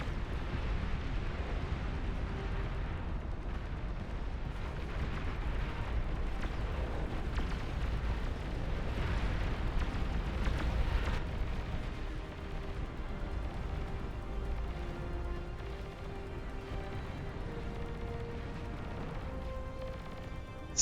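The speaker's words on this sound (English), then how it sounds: "That's a starfall." Starfall weapon strikes in the strategy game Beyond All Reason: a dense, continuous rumble of overlapping heavy explosions, loud and sustained throughout, with faint tonal music rising toward the end.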